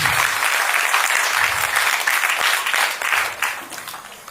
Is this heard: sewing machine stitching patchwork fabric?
no